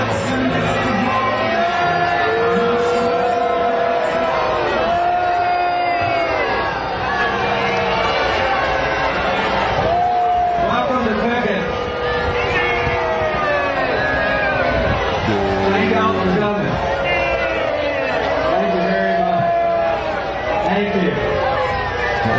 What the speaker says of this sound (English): This is 6 minutes of people booing Lindsey Graham.